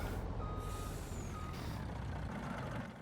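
Reversing beeps sound steadily as a Kenworth truck backs up in Farming Simulator, heard over a loud truck engine rumble with a short air brake hiss.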